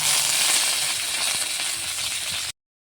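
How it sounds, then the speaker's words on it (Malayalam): Mustard seeds, dried red chilies and curry leaves sizzling in hot oil in a pan for a Kerala ash gourd thoran, a steady close crackling sizzle that cuts off abruptly. "കടുകിടും കടുക് പൊട്ടി പച്ച വറ്റൽ മുളക് കറിവേപ്പിലാണ്"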